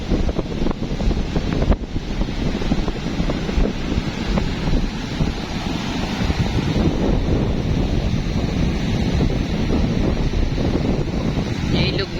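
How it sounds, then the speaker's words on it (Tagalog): Typhoon Goring's strong wind battering the microphone over a rough sea at Bucana, a constant heavy roar of gusts and crashing waves, loud and unbroken throughout. "Sobrang lakas ng hangin."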